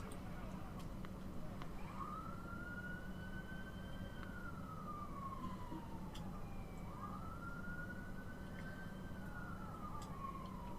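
An ambulance siren wails in two long rising-and-falling sweeps, steady and moderately distant beneath a constant broadband rumble of crowd or room noise, during a live wrestling broadcast.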